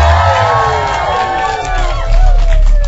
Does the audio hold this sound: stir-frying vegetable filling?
no